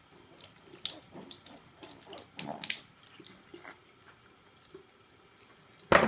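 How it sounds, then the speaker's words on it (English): Running tap water splashes intermittently over a toothbrush head being rinsed at a sink, close by, with drips and trickles. A brief loud gush comes at the end. "when I'm done, I will take this head off and wash it off."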